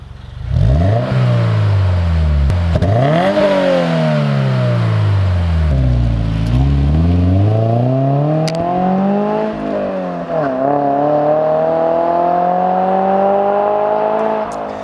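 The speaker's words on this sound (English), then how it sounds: "It's gonna give you that nice deep exhaust note without the drone" A car engine revs up and down repeatedly, its deep exhaust note sweeping high and low, loud and close throughout.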